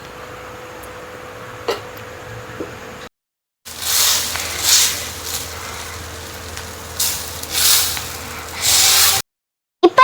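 Dosa batter hits a hot pan, bringing on bursts of hissing sizzle that swell and fade several times after a quiet stretch with a faint tick or two.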